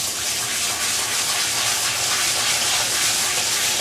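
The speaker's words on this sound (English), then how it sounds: "start to wash the rice" Rice being washed by hand in a bowl of water, a continuous close swishing and sloshing that stays fairly loud and steady, with no talking.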